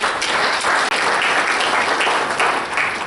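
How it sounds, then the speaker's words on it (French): Loud, dense applause fills a conference hall as a large audience claps continuously, a thick roar of many hands with only a momentary break, sustained and close throughout. "je voudrais que l'assistance vous applaudisse"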